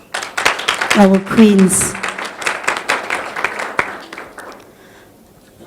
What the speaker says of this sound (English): can we please give a beautiful round of applause for our beautiful lady sitting in front